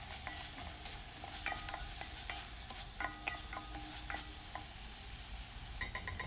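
Minced meat with vegetables frying in a pan while being stirred, a quiet, close scraping and shuffling with a soft sizzle underneath, ending in a few sharp clinks of a spoon against the pan, with no one talking.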